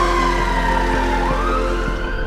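An ambulance siren wails continuously close by, loud and steady with a repeating tonal pattern and no one speaking over it.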